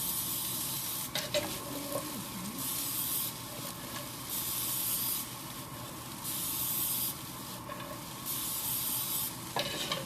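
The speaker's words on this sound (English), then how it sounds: "So we're going to spray a little bit more." Steady hissing cooking oil spray runs through the clip in several long bursts, with brief pauses between them, alone and fairly close.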